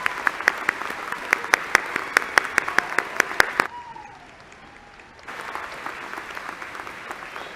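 A graduation audience applauds undergraduate honors recipients at a business school spring ceremony: dense, steady clapping that stops abruptly, a short hush, then scattered applause returns.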